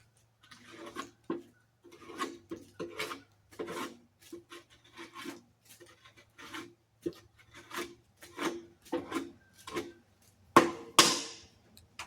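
A shovel scrapes a campfire grate clean outdoors after days of rain, with a long run of rough, rasping metal strokes in an irregular rhythm, close and fairly quiet, ending in a louder scrape, no talk.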